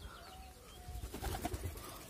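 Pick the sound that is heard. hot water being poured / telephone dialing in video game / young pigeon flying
young pigeon flying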